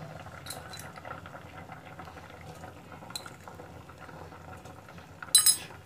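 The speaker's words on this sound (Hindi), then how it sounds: "ढक देंगे और इसको गलने का इंतज़ार करेंगे, पकने तक इसको उबाल लेंगे" Bottle gourd, apple and pear soup simmers in a covered pot with a soft, steady bubbling that stays low and even, broken by a brief metallic clink near the end.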